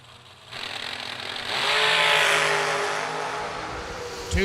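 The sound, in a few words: drag racing car engine revving at the start line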